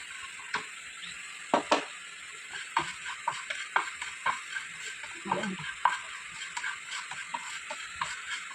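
Fenugreek, mustard seeds, cumin and other spices dry-roast in a pan, a quiet steady sizzle broken by frequent small clicks and scrapes of a spoon stirring against the metal.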